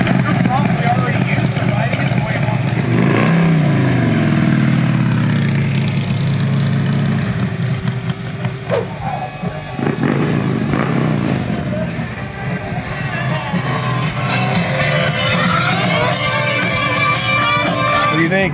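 A tuned motorcycle fitted with a new cam rumbles and revs as it rides up from a test ride, engine loud and close, with voices talking over it.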